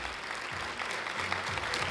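Guests at an award semifinalist announcement ceremony break into applause, a thick, steady clatter of many hands with a voice briefly heard beneath it.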